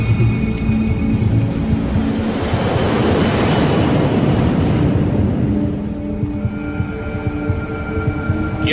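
A jet airliner rolls down the runway for takeoff in winter conditions, a loud continuous engine roar and rumble that swells through the middle and eases slightly toward the end, with no voices over it.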